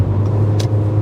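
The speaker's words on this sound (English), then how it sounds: "Oh my God, the engine noise is crazy." A 2011 Ford Focus with a 4-speed automatic heard from inside while accelerating, a loud steady low engine drone with a faint brief hiss over it.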